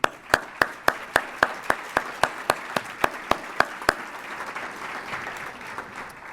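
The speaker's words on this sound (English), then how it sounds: "So Rhett, Lyle, will you all stand, please, for a round of applause, please?" Applause at the 2022 Mizzou Hall of Fame ceremony opens with sharp, evenly spaced claps close by, about four per second, then dissolves into softer, scattered clapping from the room.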